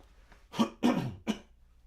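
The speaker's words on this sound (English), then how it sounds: "Excuse me, I have to clear my throat." Someone clears their throat close by in three rough, quick bursts, then falls quiet.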